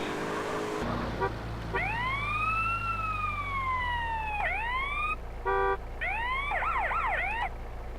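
Police car siren from a Russian-style police vehicle in MTA San Andreas, wailing up and down continuously and loudly, with a quick yelp burst and rapid warbling near the end over steady engine rumble.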